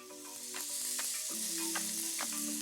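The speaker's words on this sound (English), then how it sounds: "we're going to add our halloumi, good sizzle" Halloumi sizzles steadily in a hot oiled pan, a bright crackling hiss that swells and holds, with a low hum underneath.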